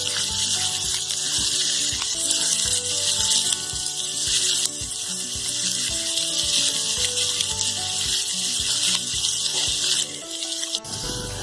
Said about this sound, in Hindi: अब मीडियम टू लो रखकर इनको हम भून लेंगे।